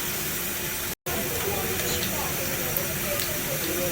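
Besan sev nimko frying in hot oil after being flipped: a constant close hiss and fine sizzle, broken once by a split-second gap, with no talk.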